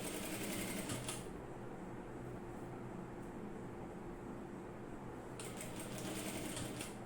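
A sewing machine stitches a narrow quarter-inch folded hem on an umbrella-cut skirt, running in a steady fast whir with brief louder bursts at the start and end, close and without speech.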